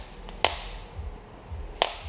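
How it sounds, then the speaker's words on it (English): A slide hammer strikes twice against its stop, pulling a front wheel bearing from the carrier of a Yamaha YFZ450 ATV: two sharp, loud metallic knocks over a second apart, with no talking. "hit that all against there with this slide hammer, and it'll pull it out"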